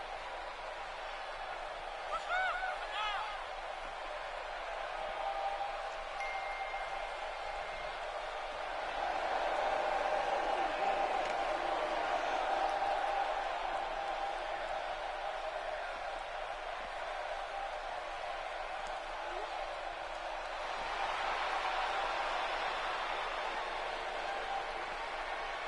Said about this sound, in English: And this crowd roundly booing Jesse Doyle.